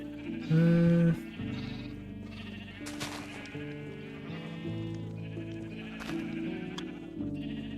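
Sheep in Minecraft bleat in a series of wavering calls, one loud near bleat early on followed by softer repeated bleats, alone without talk.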